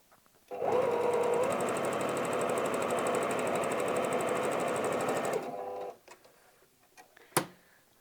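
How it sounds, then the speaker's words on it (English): Close and steady, a sewing machine runs a straight stitch on fabric for a wallet in one continuous rapid run of about five seconds, then slows and stops, followed by a few faint handling clicks and a sharp tap. "I'm just going to do a quick row of straight stitch using the"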